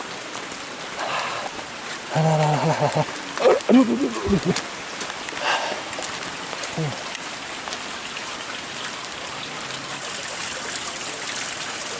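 Steady rain falls close by in a village at the foot of a mountain, a continuous broadband hiss throughout with a few brief voice exclamations over it.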